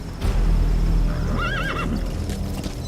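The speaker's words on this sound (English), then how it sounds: "Come on, horse, let's get the hell out of here." A horse in the video game Metal Gear Solid V gives a short, wavering whinny over hoofbeats and low ambient rumble, clear and fairly close.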